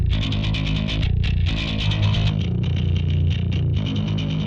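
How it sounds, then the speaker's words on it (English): A distorted bass guitar runs through a SansAmp, playing a steady heavy metal part with a thick, gritty low end and buzzing upper harmonics. It stays loud and continuous with no talking. "Distorted amp with a different character. Sounds filthy."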